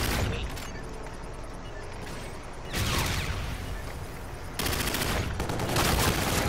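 Rapid gunfire bursts from players pre-firing in a team shooter game, loud and near, in dense volleys that swell twice with heavier bursts, with no talk over them.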